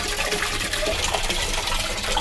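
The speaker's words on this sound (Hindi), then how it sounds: "बाल्टी भर चुकी है" Water gushes into a bucket filling from a tap, a close, continuous rushing splash that stays steady from start to finish.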